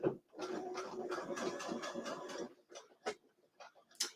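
A home sewing machine runs a straight stitch along the last seam of a quilted home decor piece: a rapid, rhythmic mechanical chatter for a couple of seconds, then a few isolated clicks as it stops.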